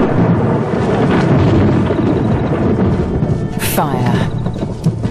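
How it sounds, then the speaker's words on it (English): Deep thunder from an approaching storm over dry grassland rumbles and rolls loudly through the whole stretch, with a brief high crackle partway through, sounding close and heavy. "A storm approaches."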